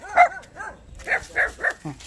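Several dogs bark and yip in quick, short bursts close by, a handful of excited barks over about two seconds.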